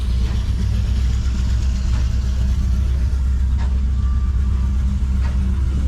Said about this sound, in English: And they got a Case, a big Case tractor.